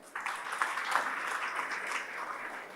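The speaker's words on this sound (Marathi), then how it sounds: "जरा यांच्यासाठी सगळ्यांनी टाळ्या वाजवा" An audience applauds a group of village heads standing at a rural development gathering in the Konkan region, with moderate, even clapping that holds steadily for a few seconds.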